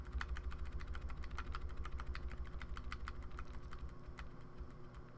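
Rapid clicking of computer keyboard keys, including repeated arrow-key taps, used while editing a picture inside text in Photoshop Elements; close and steady, a quick irregular run of light clicks over faint background hum, with no talking.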